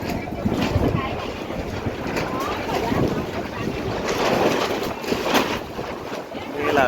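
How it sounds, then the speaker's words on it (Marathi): Strong wind roars and buffets a nearby microphone continuously, with gusting surges and a rough, rumbling texture throughout. "हा वारा बघा असला तो"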